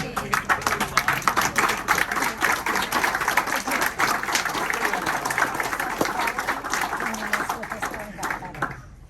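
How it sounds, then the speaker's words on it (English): Sustained applause from a standing club meeting audience welcoming a new member, dense steady clapping lasting several seconds before tapering off at the end. "everybody stand and give this guy a round of applause"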